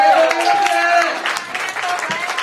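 A crowd applauds steadily throughout at a live concert, a dense wash of clapping with voices and cheers mixed in.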